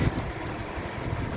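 A 2015 Suzuki Ertiga 1.4 GX manual's 1400 cc four-cylinder front-wheel-drive engine idles with a steady, low, even hum and no other sound over it.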